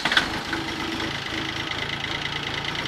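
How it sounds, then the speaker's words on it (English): A tractor engine runs at a steady speed with an even, throbbing idle-like knock, close and continuous, heard through a microphone with a dense foam shield on an open-face helmet. "The tractor is running"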